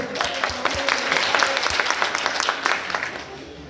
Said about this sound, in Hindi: जोरदार तालियां उनके भाई के लिए।